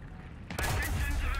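Gunfire in the tank combat game War Thunder: a sudden sharp shot after a quieter lead-in, then a burst of rapid reports and rumbling echoes.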